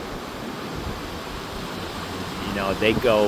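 Ocean surf rolls onto a Dominican Republic beach on the Caribbean or Atlantic shore, a steady broadband wash with wind noise throughout and a person speaking over it near the end.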